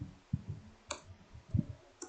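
A handful of faint, scattered keyboard clicks come from someone typing a command into Stata statistics software, close by and quiet, with irregular gaps between keystrokes.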